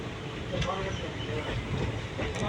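A passenger train running on the Karur to Coimbatore line via Erode: continuous rolling rumble and rattle from on board, with faint clicks and voices underneath.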